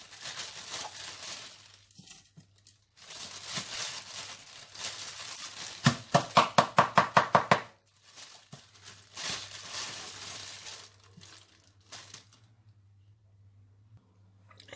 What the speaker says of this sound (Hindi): अब इसको ग्राइंड कर लेते हैं।